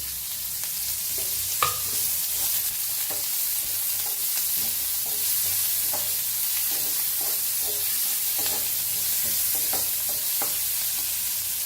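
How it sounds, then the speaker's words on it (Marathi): Onion frying in a pan with a steady loud sizzle, punctuated by scraping and clinking stirs of a spoon throughout, no voices. "तर कांदा भाजून घेऊया आपण।"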